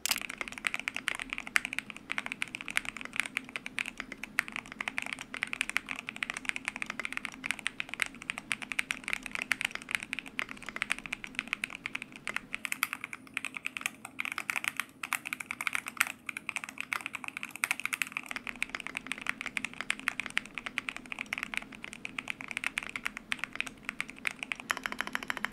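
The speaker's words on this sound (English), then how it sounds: "here's how the keyboard sounds." An Akko YU01 mechanical keyboard with a resin case is typed on steadily, giving a continuous stream of close, clacky keystrokes with no talking.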